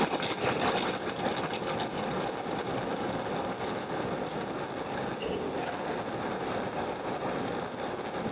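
A stick welding (SMAW) electrode burning as it is pushed forward along a weld, a steady harsh crackling buzz that holds at an even level throughout.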